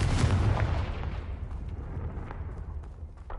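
A Confringo fire spell bursts in Hogwarts Legacy with a heavy booming blast up front, then a long rumbling decay scattered with crackling debris, loud and close with no talking.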